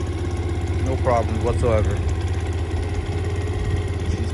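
A Grom clone motorcycle engine idles quietly at its first start, fitted without an exhaust, a steady low purr running throughout while someone speaks briefly over it.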